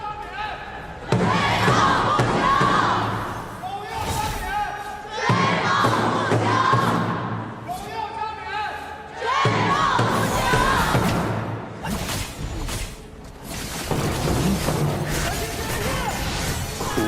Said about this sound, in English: So let's hear the fans cheer for both sides again.